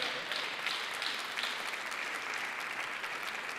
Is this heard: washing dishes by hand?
no